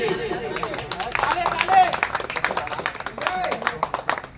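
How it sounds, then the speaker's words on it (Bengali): Clapping from an audience at an award ceremony in a hotel in Suti, Murshidabad, steady and dense across the whole span, with crowd chatter mixed in. "তো জোরে হাততালি"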